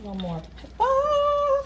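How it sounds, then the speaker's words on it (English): Someone speaks briefly, then a cat lets out one long, drawn-out meow close by. "that's my cat"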